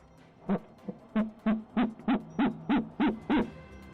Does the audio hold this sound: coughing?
no